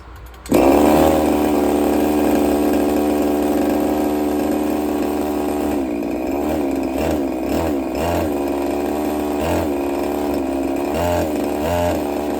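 A used Redcat Rampage XB RC truck with a Walbro 990 carburetor gas engine runs steadily and loud after starting, a buzzy two-stroke drone with brief throttle dips and revs throughout.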